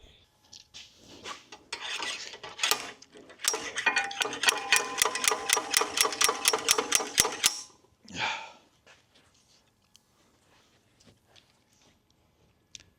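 Cutting metal for a custom cafe racer subframe on a Harley Sportster, a close rapid rasping with rhythmic strokes building to a loud run of regular cuts, then a short burst and near quiet.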